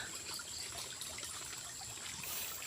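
A small creek runs beside a house, its water trickling in a steady, close, unbroken wash with no pauses and no voices.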